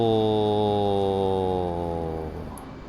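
Blue Angels jet engine in the DCS World flight simulator during a solo airshow practice, a steady loud whine over a deep drone that eases gradually as power comes back, with no talking.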